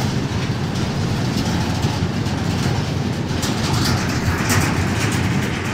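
Norfolk Southern 7277 freight train rolling through Effingham, Illinois: a steady, loud rumble of wheels and wagons with faint clickety-clack, heard close by and unbroken throughout, with no talking.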